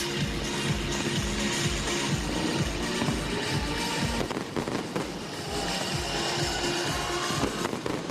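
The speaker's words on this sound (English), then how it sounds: "This was followed by a 7-minute firework display which began at the stroke of midnight." Fireworks from a midnight New Year display crackle and pop in dense, continuous bursts, with deeper booms mixed in, loud and near throughout.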